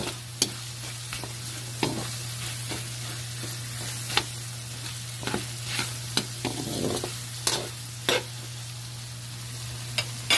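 Chopped bottle gourd (upo) being stir-fried in a pan, with a steady sizzle and repeated sharp scrapes and clacks of a utensil against the pan at irregular intervals, close and with no talk.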